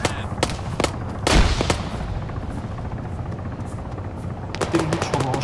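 Helicopter rotor drone with bursts of gunfire and a heavy impact in the ArmA 3 military shooter, loud and continuous with sharp cracks and a boom near the start and more shots toward the end.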